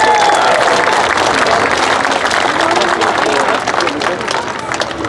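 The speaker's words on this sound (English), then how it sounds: "So give them a round of applause, please." Audience applause fills the grandstand at the 2022 Calaveras County Fair Jumping Frog Jubilee finals, a steady, loud wash of many hands clapping that holds throughout and eases slightly toward the end, with crowd murmur mixed in.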